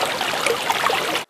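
River flowing within about 20 metres of multistorey apartment blocks in Novosibirsk, a close, steady babbling trickle of water, unbroken until it cuts off abruptly.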